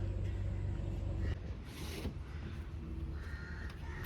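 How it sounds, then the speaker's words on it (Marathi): Several crows caw outside a hotel in the Konkan region, a few harsh calls at moderate distance over faint traffic rumble, preceded by a brief low engine hum. "इथे कावळे जास्त आहे"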